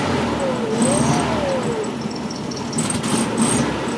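A 1963 VW Karmann Ghia engine runs after a cold start outdoors, a steady close idle with a whining rise and fall early on and light metallic clinks.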